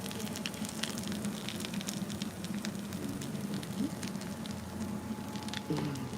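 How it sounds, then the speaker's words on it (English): Pancakes frying in a pan give a steady, close crackling sizzle with scattered sharp pops, and no voices are heard. "Y'all hear it sizzling?"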